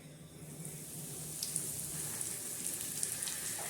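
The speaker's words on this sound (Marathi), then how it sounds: "चला आता मस्तपैकी आपण तव्यावर एक एक मच्छी करून टाकून देऊया" Mackerel pieces dropped one by one into a pan of hot oil, giving a steady, moderately loud sizzle and crackle with occasional sharper pops, no voices.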